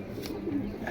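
A large running pigeon gives one brief, low coo, close and fairly soft, with a murmur of background noise.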